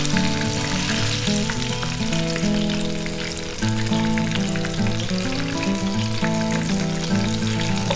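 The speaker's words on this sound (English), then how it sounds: "Frying this fish did not take me more than 2 minutes" Thin, small lady fish fry in hot oil, a loud, constant crackling sizzle that runs unbroken and close-up throughout, with no talking.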